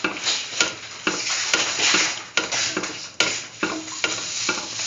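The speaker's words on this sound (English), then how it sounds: "Saute thoroughly and mix until all the ingredients are nicely mixed." Vermicelli pasta soup ingredients sauté in a pan, a continuous sizzle broken by repeated scraping and stirring strokes of a utensil against the pan, close and fairly loud.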